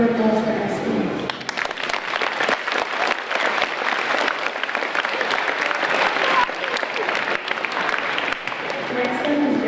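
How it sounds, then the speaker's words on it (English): An audience at a school Veterans Day program applauds loudly and steadily for several seconds, with crowd noise mixed into the clapping. "Let's give a round of applause for Estie."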